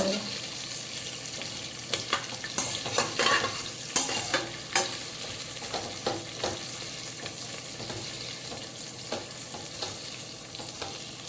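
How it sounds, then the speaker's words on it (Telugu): Onions and vegetable pieces frying in a pan for mint pulao, a steady close sizzle with repeated scraping and stirring clicks of a spoon against the pan, no talking. "ఉల్లిపాయ వేగాక కూర ముక్కలన్నీ వేసాము."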